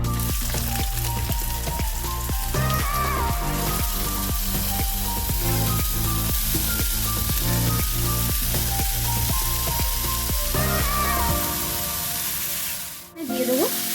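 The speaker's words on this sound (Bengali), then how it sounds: "তেলটা গরম হয়ে এলে এখানে আমি সবজিগুলো অ্যাড দিয়ে দেবো।" Chopped onion, capsicum and carrot sizzle steadily in hot oil in a wok, a loud continuous fry with regular stirring scrapes throughout, fading out near the end.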